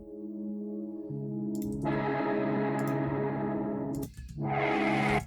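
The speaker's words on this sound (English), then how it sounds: "So the main chord here during the build sounds like this." A sustained synthesizer chord drenched in effects, shifting pitch partway through, with shimmering echo and distortion, briefly dipping before swelling back loudly.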